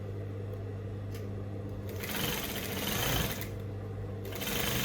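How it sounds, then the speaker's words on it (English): A sewing machine stitching a gown seam, a steady close mechanical hum that rises and falls in two or three bursts of faster stitching. "So I'm just gonna sew this, and leaving 1 inch."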